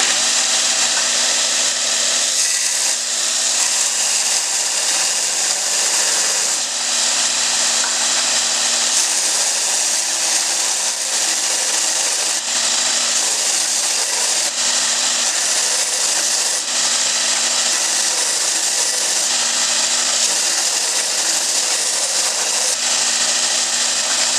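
A belt grinder running a 40 grit ceramic belt grinds into a steel hammer, a loud, continuous high-pitched abrasive whine with slight surges in pressure, heard alone without speech.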